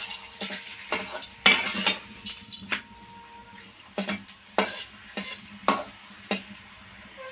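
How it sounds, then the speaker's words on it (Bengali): Pumpkin parathas fry in a medium amount of hot oil over a low flame, giving soft, intermittent sizzles and scraping stirs in a quiet kitchen with no voices. "এখন পরোটাগুলো ভেজে নেব"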